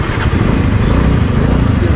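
A small engine runs steadily nearby with a low, throbbing drone, a scooter's motor humming continuously with faint talk beneath.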